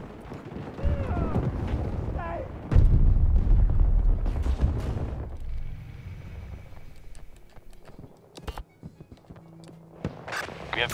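Gunfire in the Battlefield 2042 Breakthrough 128 mode, with shots and booming blasts mixing into a dense, noisy battle din. Heavier rumbling explosions come midway, and sharp, scattered cracks follow near the end.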